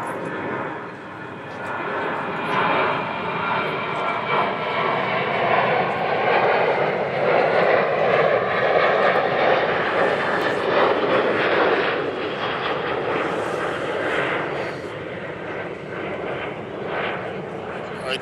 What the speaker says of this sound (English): Another plane coming. Another plane coming.